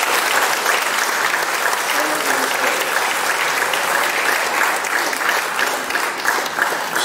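Loud, sustained audience applause fills the hall at a Siedlce senior ensemble concert, dense clapping running steadily for about seven seconds without a break.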